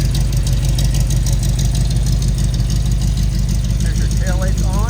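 A 1961 Corvette C1 convertible with a restored 283 cubic-inch V8 and four-barrel carburetor idles steadily and close, a low even rumble under a voice that comes in near the end.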